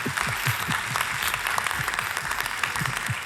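On a televised Armenian pop music show, a crowd claps steadily for the singer, a moderately loud and even applause that lasts the whole moment.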